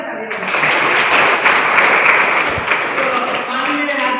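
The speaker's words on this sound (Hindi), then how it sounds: "एक बार जोरदार तालियां" Loud, sustained applause from an audience at a women's training program event, steady dense clapping throughout with faint voices mixed in.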